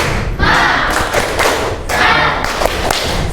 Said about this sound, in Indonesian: Kita tepuk semangat dulu ya. Yuk, tepuk semangat.